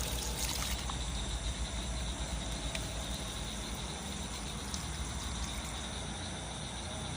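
Water pours and trickles steadily while a container is rinsed during a liquid organic fertilizer preparation, a continuous close splashing flow with faint chirping behind it and no talking.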